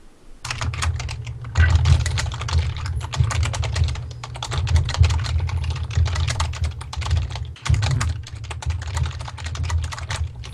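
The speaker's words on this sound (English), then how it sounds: "Furious typing." Fast, furious typing on a computer keyboard, a dense rattle of close key clicks in bursts with brief pauses, alone and without talk.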